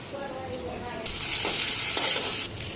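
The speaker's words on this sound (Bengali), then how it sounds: "তো এখন কাঁচা লঙ্কাগুলি দেওয়া দিই।" Green chilies drop into a hot frying pan of food, setting off a sudden loud sizzle that continues steadily under stirring scrapes for about a second and a half before quieting.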